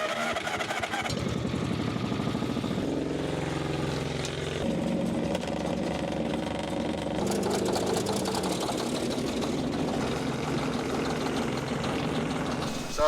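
The engine of a massive Caterpillar D8 dozer turns over and sputters, trying to catch, a loud continuous low rumble with uneven knocking that shifts in pitch as it labors.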